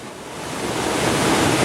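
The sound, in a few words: waterfall, rushing water at Falling Spring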